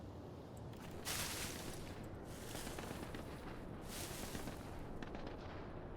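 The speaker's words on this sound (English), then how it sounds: "I can hear gunfire." Dense, continuous rumble of distant gunfire and explosions with sharp bursts standing out, a busy battle soundscape in a tactical FPS video game, without talk.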